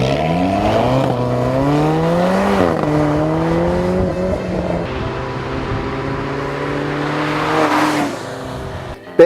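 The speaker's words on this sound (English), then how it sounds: "Sounds like a four-cylinder symphony, and it's deep too. It's really deep for an engine that's under 2 liters." A 2015 Alfa Romeo 4C with a sub-2-liter four-cylinder engine revving hard, deep rising and falling engine tones through several gear changes, loud and close with no speech.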